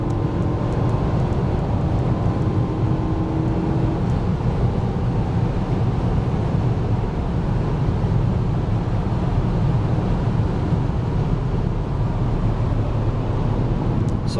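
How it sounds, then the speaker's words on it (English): A 2011 BMW M3 pulling hard in fourth gear at around 100 mph, a loud continuous engine drone with wind and road roar heard from inside the cabin, steady throughout with no talk. "Third gear, here comes fourth. 100 miles an hour in fourth."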